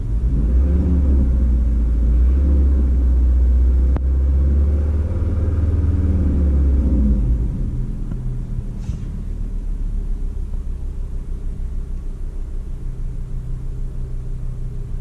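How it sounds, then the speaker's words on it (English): A car engine idling after a switch to E85 fuel gets a very light rev, with a loud, close low rumble for about seven seconds that then settles to a quieter steady idle. "I'm just going to give it a very, very, very light rev to get the fuel going through the system a bit more."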